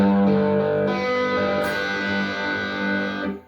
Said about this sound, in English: And then D, and then strum the underneath 3 strings.